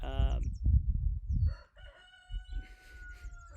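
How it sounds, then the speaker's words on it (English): A rooster crows once, loud and close, its call rising and trailing off, followed by quieter bird chatter and background noise. "sorry, it's my rooster"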